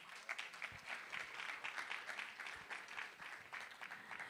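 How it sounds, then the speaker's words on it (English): An audience at the Global AM Summit 2023 applauds panelists and speakers, a steady, faint patter of many hands clapping in a hall, continuous and even throughout. "can we give another round of applause for our panelists and speakers?"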